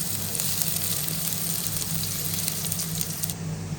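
Garlic frying in a pan for beef sinigang, a steady close hiss and crackle of sizzling oil that runs unbroken throughout.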